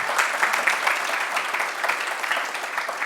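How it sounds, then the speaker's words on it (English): Lively round of audience applause at a sustainability presentation for movers, a dense, continuous patter of many hands in a room, loud and steady throughout. "round of applause for this amazing presentation."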